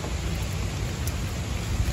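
Steady rain falls over a long-bean (kacang panjang) garden during a harvest, a dense, even hiss of drops with no voices, holding at a constant moderate level throughout.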